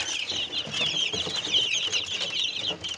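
Village chicks and chickens on a farm chirp and cluck continuously at close range, a busy, high-pitched cheeping from many birds together.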